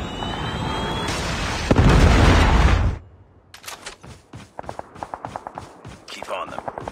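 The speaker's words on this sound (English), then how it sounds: "Friendly Predator missile inbound." Loud sustained blast and roaring rumble from a Predator missile strike in Call of Duty, ending abruptly, then a rapid run of sharp gunfire bursts.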